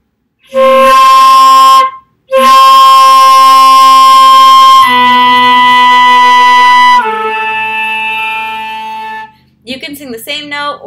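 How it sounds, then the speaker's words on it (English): A flute plays sustained notes while a voice hums along at once, giving a buzzy, doubled tone; the phrases change pitch, then a short flurry closes. "So that is when you sing and play at the same time."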